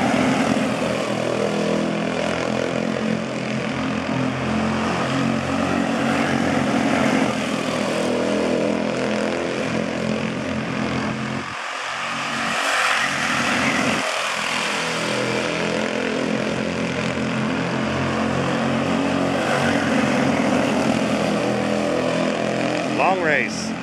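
Senior Honda quarter midget race cars lap a track in a long main event, their small engines blending into a steady, dense buzzing drone, with a brief dip in the middle of the race.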